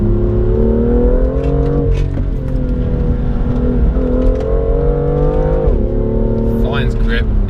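BMW M2 accelerating hard on a road, engine note climbing steadily through the gears with brief dips at shifts, loud and close inside the car, with someone talking over it.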